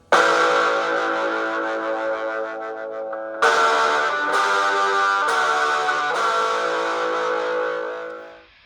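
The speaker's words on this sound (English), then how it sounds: "when you get that guitar home and you plug it into an amplifier" Electric guitar through a cheap beginner practice amplifier, a strummed chord ringing out and then several more chords struck in a row, each decaying slowly with a thin buzzy tone, close and fairly loud.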